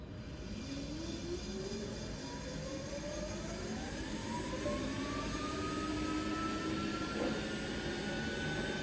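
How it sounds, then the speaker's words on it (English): A Rawsuns READ4200Z 110 kW electric axle EV system driving under test, a steady loud whine that rises smoothly in pitch as it speeds up, over a constant high tone and broad rumble. "We can see the electric axle is running towards me"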